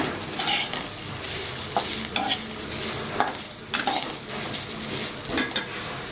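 A utensil stirs and scrapes through beetroot sizzling in a pan, with steady frying hiss and irregular clinks and scrapes against the metal.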